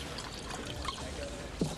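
Gin poured into a cocktail at a bar, a steady liquid stream running alone through the short stretch with a brief splash near the end.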